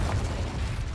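A Confringo spell explodes in the video game Hogwarts Legacy, one short, dense, booming burst heavy in low rumble that fills the whole moment with no voice over it.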